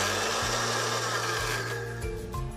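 A blender whirs as it mixes a raw egg with salt and sugar, its motor speeding up and slowing in several surges across a few seconds, loud and close with no talk over it.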